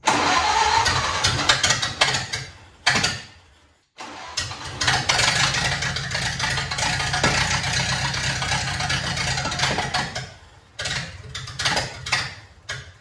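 A Ford Model A barn-find engine cranks and starts, cuts out briefly, then runs again at a rough idle with occasional revving, loud and close.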